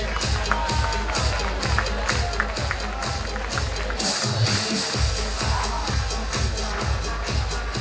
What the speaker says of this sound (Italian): Fatemi un applauso alla nostra bellissima Brenda.